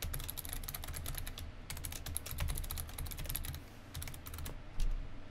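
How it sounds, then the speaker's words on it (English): Password typed on a computer keyboard, a quick close run of key clicks with a short pause midway, then a final few presses, no voices. "we're gonna just input our password"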